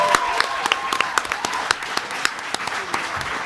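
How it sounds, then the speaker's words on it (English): An evening question-time audience applauds election candidates, producing a sustained patter of clapping with sharp individual claps popping out close by. A faint voice sits underneath. "I'd just like to have one more round of applause for all the candidates that have come up this evening"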